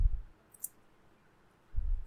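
A computer mouse gives a quick, faint double click, two tiny ticks close together, between soft low room rumbles at the start and end of a brief quiet stretch.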